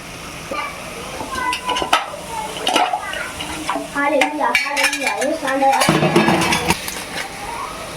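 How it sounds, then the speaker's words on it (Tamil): A spoon scrapes and clinks against a cooking pot while biryani is stirred, with close, irregular metallic clatter and soft scraping throughout. "நல்லா கிண்டி பிரியாணி செய்கிறோம்"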